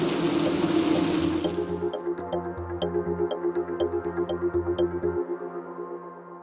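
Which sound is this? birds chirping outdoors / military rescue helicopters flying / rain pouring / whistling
rain pouring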